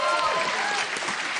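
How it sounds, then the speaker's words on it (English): A science slam audience applauds its judges, a dense wash of clapping that stays steady throughout, with a voice speaking over it. "they deserve a big round of applause"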